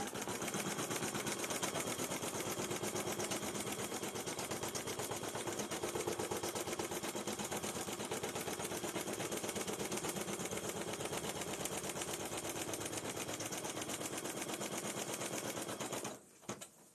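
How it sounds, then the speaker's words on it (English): An embroidery machine stitches out a placement stitch with a fast, steady, rapid-fire clatter that runs loud and unbroken nearly to the end, then stops. "We are stitching out our placement stitch."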